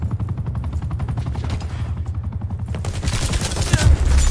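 Rapid automatic gunfire from a Titan light machine gun in Call of Duty Black Ops 4, a sustained fast burst of shots that grows louder and denser toward the end, close and dominant.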